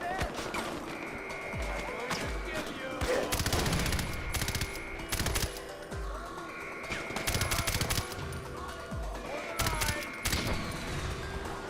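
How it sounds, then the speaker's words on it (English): Mortar fire and gunfire in Far Cry 4: repeated heavy booms and bursts rattle through a dense battle soundscape, loud and recurring throughout. "That's a mortar."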